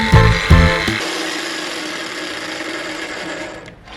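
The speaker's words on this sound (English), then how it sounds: "Never take out the jigsaw before it's stopped because you'll punch the wood." A jigsaw fitted with a metal-cutting blade sawing wood for a sewing table, with a couple of rapid reciprocating bursts at the start, then a sustained buzzing run that fades slightly as the cut finishes.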